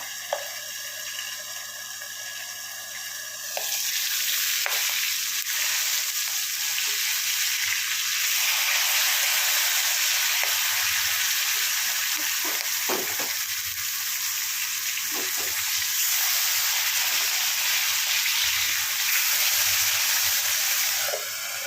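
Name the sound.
fish frying in a pan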